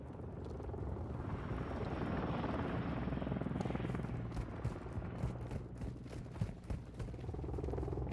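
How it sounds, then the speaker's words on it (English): A friendly overwatch helicopter arrives in Call of Duty, its rotor thumping steadily and loud while bursts of gunfire crackle over it toward the end. "Friendly Overwatch helo inbound."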